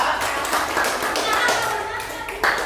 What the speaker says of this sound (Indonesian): Oke, tepuk tangan buat Aska.